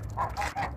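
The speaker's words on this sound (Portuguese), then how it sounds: "E aqui eu tenho os patos" Ducks on a small farm in Ferraz de Vasconcelos, São Paulo, give a few close, nasal honking quacks in quick succession.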